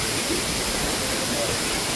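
Steady, dense roar of a waterfall in Kerala, close and loud, a continuous broadband rush of falling water with no break over the whole stretch.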